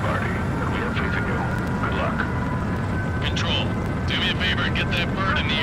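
A fighter jet roars steadily on takeoff in the video game Ace Combat 7, a loud continuous engine rush with higher whines, while radio voices talk over it.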